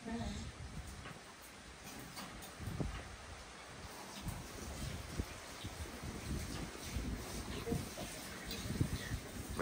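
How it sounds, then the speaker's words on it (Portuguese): Gusty wind blows outdoors in a rural countryside setting. It makes a steady rushing hiss with low buffeting thumps and leaf rustle that rise and fall throughout, while people talk quietly nearby. "Começou a ventar, né?"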